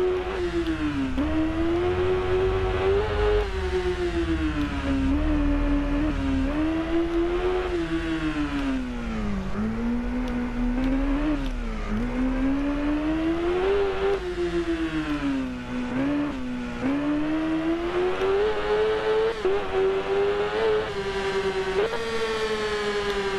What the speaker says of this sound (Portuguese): Vou deixar vocês curtirem aí o ronco do motor.